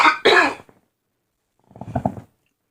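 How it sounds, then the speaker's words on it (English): One sharp, loud cough up close, then a pause of silence and a softer throat-clearing rumble. "I got a cough here."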